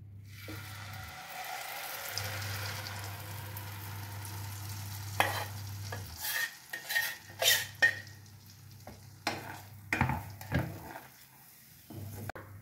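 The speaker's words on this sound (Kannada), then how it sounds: "ನಾವು ಇದನ್ನ ಸ್ವಲ್ಪ ಮಿಕ್ಸ್ ಮಾಡ್ತಾ ಇರಬೇಕು, ಚೆನ್ನಾಗಿ ಮಿಕ್ಸ್ ಮಾಡಬೇಕು" Poppy seed paste being stirred into porridge in a pan with ghee, a soft scraping and sizzling that repeats steadily, with brief louder clinks of the spoon against the pan.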